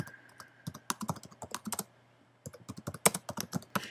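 Rapid irregular clicks of keys being typed on a computer keyboard, close up, in two bursts separated by a short pause, over a faint steady hum.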